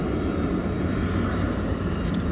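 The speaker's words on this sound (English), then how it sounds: "that's airplane" An airplane passes overhead as a steady, broad engine roar that stays loud and even throughout, with no voices over it.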